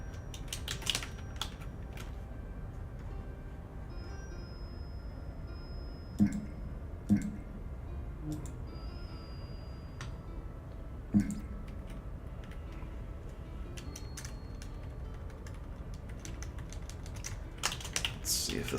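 Soft, rapid clicks of a computer keyboard patter along in a quiet room, an occasional louder tap standing out, while a ship's name is entered in No Man's Sky.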